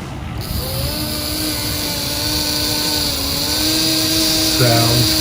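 A small electric motor from an Aurora Thunderbike slot car trike runs on a transformer with a high, steady whirring drone whose pitch wavers slightly, close up and continuous throughout, rising a little near the end.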